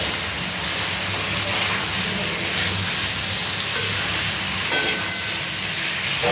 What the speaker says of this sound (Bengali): টমেটোগুলো অ্যাড করার পরে এটাও একটু নাড়িয়ে চাড়িয়ে অল্প 2-3 মিনিট ভেজে নেব